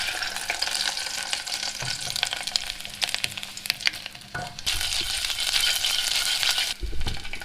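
Hamburger patties frying in oil, a continuous close sizzle and crackle that swells louder near the end, with a few brief clatters and no speech.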